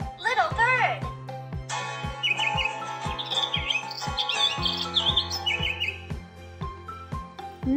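A bird chirps in short high tweeting bursts over a steady looped tune with a rhythmic thumping beat, part of a children's farm animal book read aloud.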